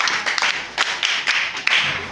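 Pupils in a classroom clap for a classmate, a run of uneven rhythmic claps from a small group, moderately loud and close, with no talking.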